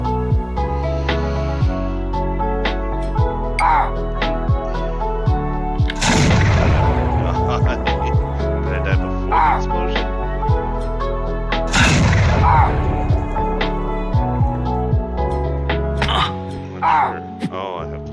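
Explosions from a weapon in a playtested video game, several heavy booming blasts spaced out among sharper gunfire-like shots over game music, with a voice talking throughout.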